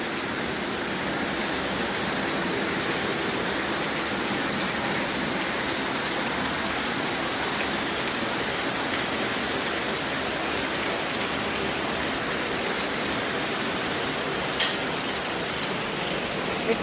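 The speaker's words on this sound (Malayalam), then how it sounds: "ഈ മഴ കാണുക" Steady summer rain pours down around a home, a dense, even hiss of drops on surfaces that keeps up without a break, fairly close and loud.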